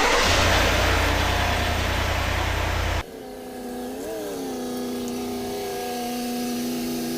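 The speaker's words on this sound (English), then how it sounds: "I'm gonna go ahead and pull the Escalade into the middle of the garage" A Cadillac Escalade pulling into a garage, heard first through a loud broadband rush that cuts off abruptly. A steady close engine hum follows, with a brief rise in revs partway through.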